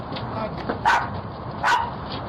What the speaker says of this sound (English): The guard dog sets off a 12-bark alarm.